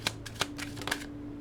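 A deck of tarot cards being shuffled by hand, a few quick papery riffles and taps up close, separated by brief pauses against a low steady hum.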